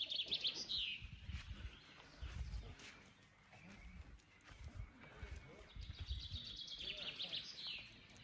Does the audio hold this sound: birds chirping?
yes